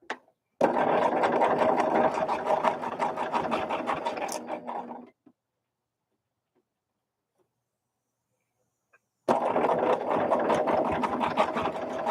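A sewing machine stitches a quilt block in two loud, close bursts of rapid mechanical whirring, separated by several seconds of silence.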